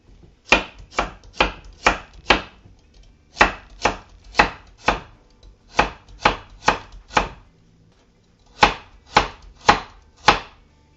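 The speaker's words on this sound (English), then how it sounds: "I would say that the chopping is my favorite part." Carrots and other vegetables for kimchi being chopped with a knife on a board, heard close and alone: steady runs of sharp, even strikes in groups of four or five, with brief pauses between groups.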